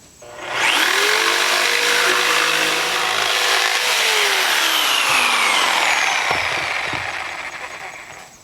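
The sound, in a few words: jigsaw cutting, powered by inverter and solar batteries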